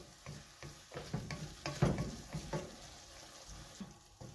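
Asparagus cooking down in liquid in a pan over high heat, a low, quiet bubbling sizzle with repeated soft stirring scrapes in an irregular rhythm; no talking.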